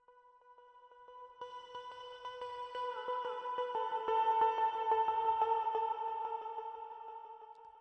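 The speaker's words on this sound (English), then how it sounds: "So that's why we added the reverb here." An eerie, scary sound-design texture of sustained tonal drones washed in diffuse reverb, with faint repeating ticks, swelling gradually louder toward the middle and fading slightly at the end.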